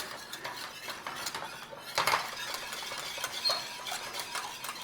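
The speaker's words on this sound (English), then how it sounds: "In there, stir it in, parsley sauce." A utensil stirring parsley into a thickening sauce in a pan, with soft scraping and clinking against the metal, one sharper clatter partway through, close and fairly quiet with no voices.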